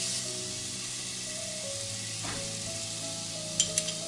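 Turmeric, cinnamon and red pepper sizzle in hot oil with garlic while red lentil dal is prepared, a steady close hiss of frying with a few sharp utensil clinks near the end.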